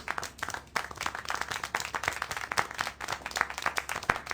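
Dense applause from a crowd in the video game Syberia: The World Before, steady clapping throughout with no pauses, fairly loud and close.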